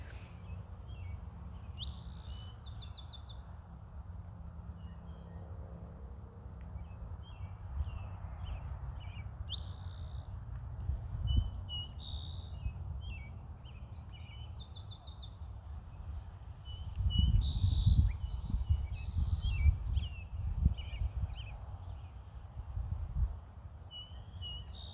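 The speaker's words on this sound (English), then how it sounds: "One bird that I'm hearing over here to the right is the robin" An American robin sings short, bright phrases in bursts from a distance at a wetland pond, repeated at intervals over a low outdoor hum that swells with rumbling noise midway.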